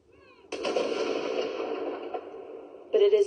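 A single ceremonial gun fires to break the Remembrance Sunday silence: a sharp, loud boom with a long rolling echo that slowly fades, followed by another burst of sound at the very end.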